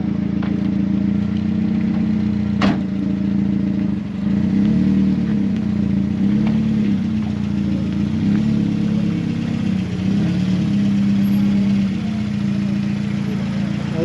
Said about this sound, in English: the little monster motor right here in this race car Mazda Miata, set up for racing and autocross